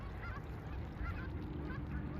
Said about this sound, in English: Some sandhill cranes. Canadian geese.